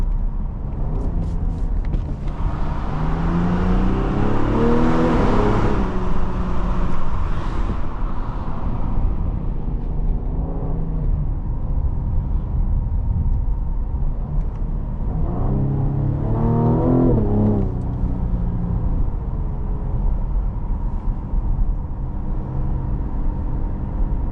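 A 2021 Cadillac CT5 Premium Luxury with a 3.0L V6 accelerates hard from inside the cabin, engine note climbing and dropping through two distinct upshifts over steady road and wind rumble.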